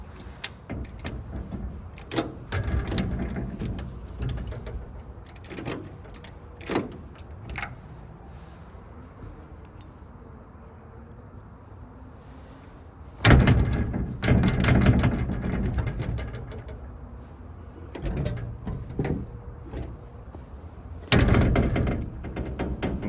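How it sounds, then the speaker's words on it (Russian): A door lock is worked with a metal key and then a plastic duplicate key: repeated metallic clicks, scrapes and ratcheting turns come in several bursts, close and fairly loud, separated by quieter handling. "А сейчас я попробую закрыть дверь металлическим ключом и открыть ее пластиковым."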